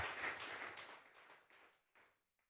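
Churchgoers give a round of applause to God, a soft wash of clapping that thins into a few scattered late claps and fades out. It sounds distant and faint.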